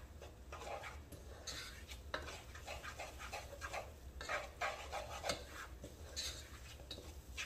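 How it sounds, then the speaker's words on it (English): Flour is stirred into melted butter in a pot for pot pie, making quiet, repeated scraping and clinking strokes of a utensil against the pot, with soft speech faintly present. "I'm going to put 1/4 cup of flour in my pot as well. And then I'm going to stir."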